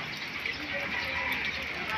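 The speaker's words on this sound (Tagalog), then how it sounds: "Yan po, umuulan po." Rain falls steadily on garden plants, a soft continuous hiss and patter of drops at an even level with no breaks, and no clear voice above it.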